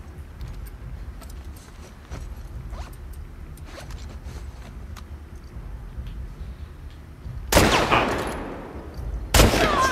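Rifle fire in the video game The Last of Us Part II: two loud, sharp shots near the end, the first trailing into a decaying echo, over quiet ambient game noise.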